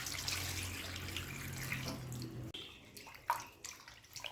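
Salted fish pieces are rinsed in water, a rushing tap-like flow that then gives way to a few splashes and clinks, close and moderately quiet with no voices.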